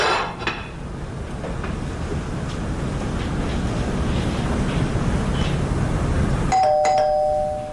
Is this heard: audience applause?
no